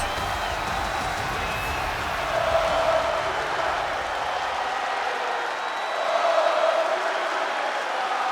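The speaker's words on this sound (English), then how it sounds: "They got a sing-along for McIntyre in the crowd." A wrestling arena crowd in WWE 2K23 singing along for McIntyre, a steady wash of distant crowd noise with swelling cheers and chanting, continuous and moderately loud.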